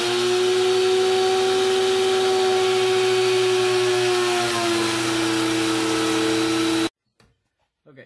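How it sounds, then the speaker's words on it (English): A router fitted with a pick guard template bit cuts a guitar pick guard, making a loud, steady high whine that runs for about seven seconds and then cuts off abruptly into near silence. "pick guard template bit in the router"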